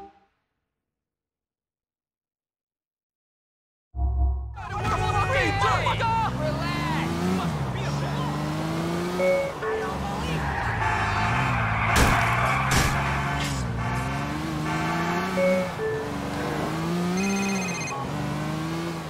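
A car drives in Grand Theft Auto 4. The opening is silent, then an engine revs and changes pitch through shifting gears. Game sounds and voices are heard over it.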